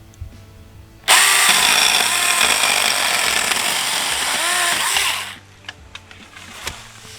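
A tiny chainsaw bites into a stalk about two inches thick, giving a loud, close, high-pitched motor whine for about four seconds before it cuts off, with faint clicks and quiet handling afterward.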